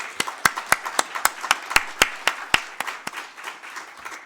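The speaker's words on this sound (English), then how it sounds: "How about a nice round of applause" A thin round of applause from the audience at an opening speech, a handful of distinct, sharp claps, fairly close and irregular, that thin out and fade over a few seconds.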